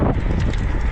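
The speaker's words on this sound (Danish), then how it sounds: "Meget vind, men den er stabil." Strong wind roars across the microphone while riding an Ausom Gosoul 2 electric scooter at around 42 km/h, a loud, continuous buffeting rumble with no talk.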